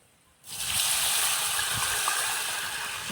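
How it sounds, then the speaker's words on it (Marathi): Hot water hits a spice tempering in a pan and sets off a sudden loud rush of hissing, bubbling sizzle that holds steady right to the end, with no voices. "हे तयार करून घेतलेलं गरम पाणी फोडणीमध्ये टाकून द्यायचं"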